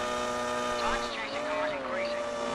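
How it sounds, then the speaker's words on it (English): Formula One cars at the 2002 United States Grand Prix in a video game whine at high pitch, the tones sweeping up and down as they pass, at moderate level with no clear talk. "I like the sound of the cars, even though it's on a video game and it's not like a V10"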